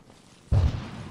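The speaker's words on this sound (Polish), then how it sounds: "Wybuchy przed nami." A sudden heavy explosion booms ahead on an Arma 3 battlefield, a single loud low-pitched blast that hits abruptly and rumbles on as it fades.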